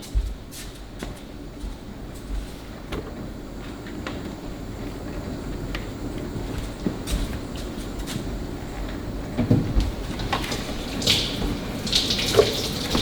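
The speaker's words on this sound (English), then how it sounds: "I'm gonna rinse more tomatoes" Tap water runs steadily into a kitchen sink while tomatoes are rinsed under it, a continuous broadband splash with small bumps and clatter from handling the fruit, fairly close and alone.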